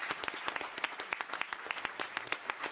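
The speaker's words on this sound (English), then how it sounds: "I think you join me in a big applause for all the panelists." Applause for the panelists at the close of a discussion on plastic pollution: a modest crowd claps with distinct, irregular individual claps, moderately quiet and steady, with no talk over it.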